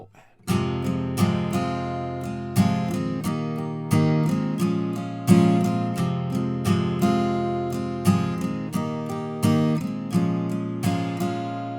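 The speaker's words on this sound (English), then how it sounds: "That's it for the intro chord progression, which sounds like this." Acoustic guitar strums the intro chord progression of a song, steady rhythmic strokes ringing close and clear, each chord decaying before the next, with no talking.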